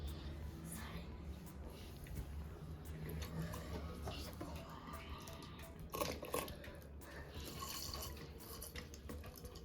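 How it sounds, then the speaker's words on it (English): Vinegar poured into a jar for an egg tooth-decay experiment, a close, continuous pouring and splashing with scattered drips running the whole length at moderate loudness. "Now pour vinegar."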